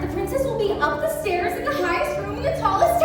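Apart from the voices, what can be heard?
None of the usual background noises is heard.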